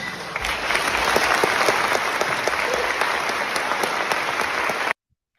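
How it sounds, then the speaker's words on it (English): Sustained applause from a large assembly in Geneva after a resolution is adopted, a dense, even wash of clapping lasting about five seconds before cutting off abruptly to silence. "Everybody applaud. Everybody applaud."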